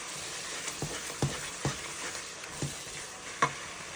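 Jollof rice being stirred in a pan, a spoon scraping the bottom in several distinct strokes about once or twice a second over a steady low sizzle, close and moderately quiet.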